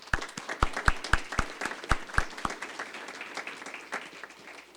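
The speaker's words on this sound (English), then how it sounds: "We'll give you a round of applause." A brief round of applause at a school board meeting: a small group's hand claps, sharp and fairly close at first, thinning out and fading over a few seconds.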